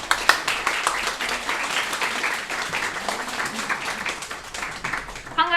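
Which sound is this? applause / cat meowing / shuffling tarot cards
applause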